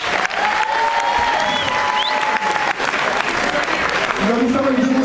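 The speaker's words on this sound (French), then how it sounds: "On l'applaudit, s'il vous plaît." Loud, dense applause from an audience at a dance battle event, continuous clapping throughout with voices and a few shouts mixed in.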